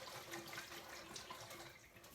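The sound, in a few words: washing walnuts under running tap water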